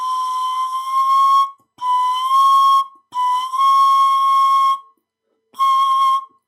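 Pan flute playing sustained high notes with a breathy edge, pitch nudged upward by narrowing the lips rather than blowing harder; four separate held tones with short gaps, close and clear, no talking.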